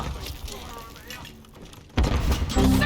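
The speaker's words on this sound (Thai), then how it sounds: "อ้าวปาระเบิดติดทุกที" A grenade blast in the shooter Call of Duty: Modern Warfare III, a sudden loud booming burst after a quieter stretch of gameplay, with heavy low rumble continuing under a voice talking.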